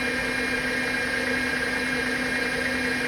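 A metal lathe running in gear while turning a workpiece to a shoulder, a steady mechanical hum and whine with even tones, constant and close, no talk.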